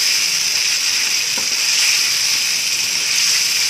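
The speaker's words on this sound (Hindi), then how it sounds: "दो 3 मिनट तक हम इसे भूनेंगे" Bhindi chicken masala roasting in a pan, a loud steady sizzle and hiss that continues without a break, up close and with no talking.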